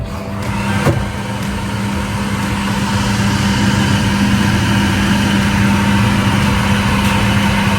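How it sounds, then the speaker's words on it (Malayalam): Kitchen exhaust fan running while fish curry cooks, a loud steady whirring hum with a constant low drone, close and unchanging throughout, with one faint knock near the start and no talking. "ഞാൻ എക്സോസ്റ്റ് ഇടട്ടെ."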